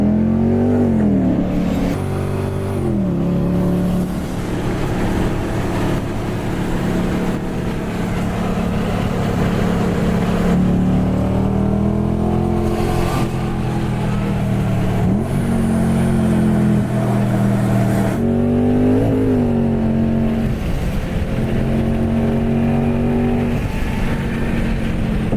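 A 2011 Lexus IS F with a stage 3 RR Racing supercharger revs hard and continuously, its engine note climbing and falling through repeated pulls at close range, with no talking over it.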